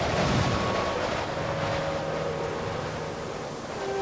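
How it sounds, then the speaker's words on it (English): A cartoon wind effect blows in a steady, full whoosh that holds for several seconds with slight swells and faint tonal streaks, loud and alone. "Archana kept following the wind"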